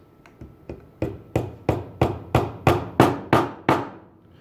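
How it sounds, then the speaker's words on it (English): A rawhide mallet taps dowel pegs into a footstool about a dozen times in a steady rhythm, each knock sharp and close, growing slightly louder as it goes. "I'm just grabbing a rawhide mallet, and all I'm going to do is tap these down into place."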